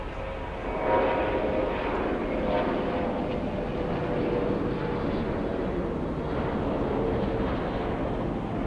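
A large jet airliner at Atlanta Hartsfield-Jackson International Airport gives off a steady, loud engine roar that swells slightly and holds throughout, heard from fairly close with no talk over it.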